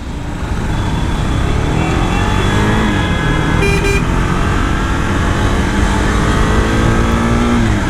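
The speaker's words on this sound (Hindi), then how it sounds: "हाई रेफ पे एग्जॉस्ट नोट ही पूरा चेंज हो जा रहा है गाइस" Husqvarna Vitpilen 250 motorcycle, a 2023 BS7 model, revving hard with a high-pitched, rising exhaust note that stays loud and close throughout, with a brief steady tone partway through.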